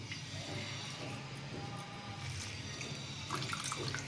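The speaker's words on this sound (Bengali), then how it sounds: "দুধটা ঢেলে নিচ্ছি" Coconut milk being poured into a pan for a prawn curry makes a soft, continuous trickle and splash, faint and steady throughout, with no talking.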